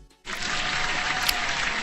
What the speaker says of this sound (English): Hand clap to you, Relic.